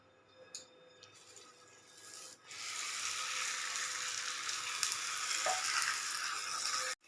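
A paratha is laid into hot oil in a kadai. After a quiet start with a couple of small clinks, a loud, bright sizzle bursts in and holds steadily until it cuts off at the end.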